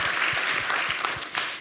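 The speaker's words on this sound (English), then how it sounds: "Give these women a round of applause" A theatre audience applauds steadily at the close of a SATE 2019 event, with dense, continuous clapping held at an even level throughout and a few sharper claps near the end.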